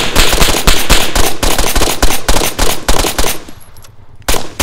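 Loud, rapid gunfire in Arma 3, sustained automatic bursts of sharp cracks that hammer on almost without pause, then thin out and stop near the end with one final burst.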